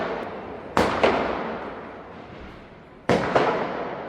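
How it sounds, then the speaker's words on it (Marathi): Firecrackers bursting outdoors in Kharghar, two sharp booming cracks, each followed by a quick second pop and a long rolling echo that fades, heard at a moderate distance with no talking. "गेल्या 10 मिनिटांपासून हे फटाके इकडे फुटत आहेत"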